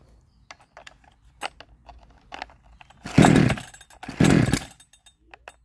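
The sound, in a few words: 62cc Chinese chainsaw engine trying to run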